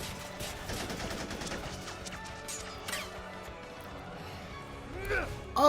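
Animated fight scene with bursts of gunfire and crashing impacts, partly under a person talking along as they watch.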